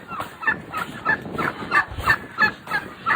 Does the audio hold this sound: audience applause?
no